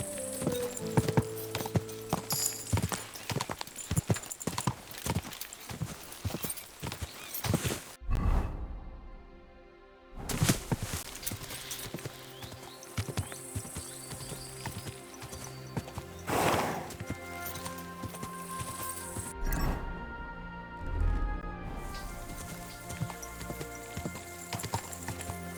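A horse in Kingdom Come: Deliverance II on PS5 clip-clops at a walk and trot, with close, uneven hoofbeats, a couple of brief pauses, occasional whinnies and swishing sounds.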